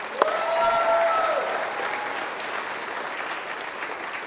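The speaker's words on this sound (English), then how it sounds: "let's give them a round of applause too" An award show audience applauds a sponsor. A sharp click opens a broad, sustained wash of clapping, with a brief whistle-like tone early on, and the applause tapers gradually over four seconds.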